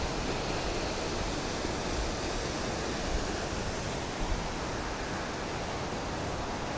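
Continuous heavy roar of water cascading from a tall forest waterfall, even and unbroken throughout, loud and close with no voices.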